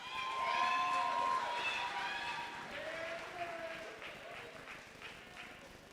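A crowd applauds the top ten students of the John F Kennedy High School Class of 2021 at their commencement ceremony, a steady wash of clapping with cheering voices that is loudest early and fades gradually.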